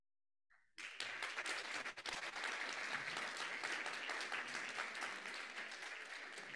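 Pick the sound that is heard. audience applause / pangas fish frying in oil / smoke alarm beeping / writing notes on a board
audience applause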